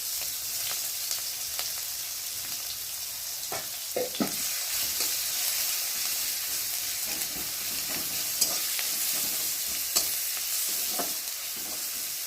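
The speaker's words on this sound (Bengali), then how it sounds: "আর এখন দিয়ে দেবো কেটে রাখা পেঁয়াজ কুচি। আর দিয়ে দেবো একটু রসুন করে।" Chopped onion and garlic fry in oil with cumin, a continuous hissing sizzle that holds steady and fairly soft throughout, broken by occasional light taps and stirring clicks.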